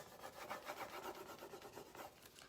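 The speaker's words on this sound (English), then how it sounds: "So I will just go and rub it with this tool" A transfer is rubbed onto wood with a rubbing tool, making quiet, rhythmic rasping strokes that repeat steadily and close up, with no talking.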